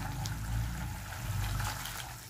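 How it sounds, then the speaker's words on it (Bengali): Water, the rinse water from the spice bowl, is poured into a pan of sautéed mustard and coconut paste for steamed hilsa, giving a steady, close splashing pour that lasts a couple of seconds. "এবার আমি জল দেবো"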